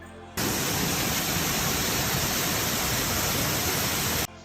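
Falling river water in Meghalaya in northeast India gives a steady, dense rushing roar, loud and unbroken for about four seconds, with nothing else heard over it.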